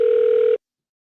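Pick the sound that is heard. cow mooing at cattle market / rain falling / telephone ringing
telephone ringing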